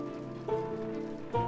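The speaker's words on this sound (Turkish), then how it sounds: "Yağmur da diniyor zaten." Steady rain patters continuously as it begins to let up, a soft even hiss with sustained tonal music layered over it and no voices.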